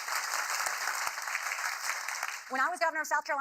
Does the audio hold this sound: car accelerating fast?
no